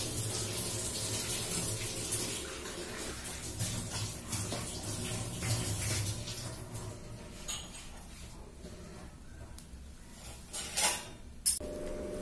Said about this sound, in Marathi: आता थोडं थोडं पाणी घालून मळून घेऊया.